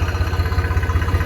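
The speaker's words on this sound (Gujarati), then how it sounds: "હવે ટ્રેક્ટર જાય છે, બરાબર." A tractor engine runs close by in a village hit by heavy rain, a steady low throbbing chug with fast regular pulses and no talk over it.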